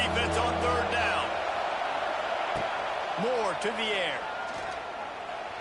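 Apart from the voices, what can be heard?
crowd cheering in college football video game CFB 26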